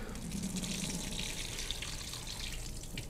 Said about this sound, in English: I'm just gonna pour these over the sink